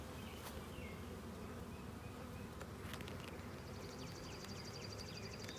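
Dense, steady buzzing of a honeybee swarm fills the whole stretch, loud and close, with a few brief higher whines of individual bees passing near.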